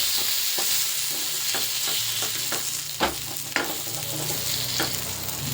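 Rava-coated masala fish fries on a hot tawa in a loud, continuous close sizzle, with a few spatula scrapes and taps cutting through the steady hiss and no speech.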